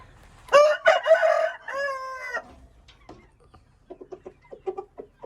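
An Aseel rooster crows up close, a loud harmonic call in a couple of bursts, then softer clucks and scratchy pecking noises follow.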